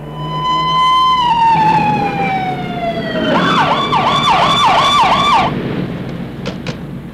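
A police car siren wails, first a long falling tone, then a rapid rising-and-falling yelp, loud and close, fading at the end, with no talk over it.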